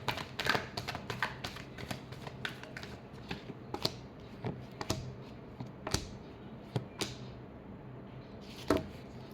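Tarot cards being shuffled close up, a steady run of soft riffling taps and flicks with a few sharper snaps, no talking.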